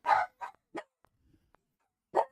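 A puppy barks in a few short, sharp bursts, close by, with brief pauses and a final bark after a gap, alone without talk.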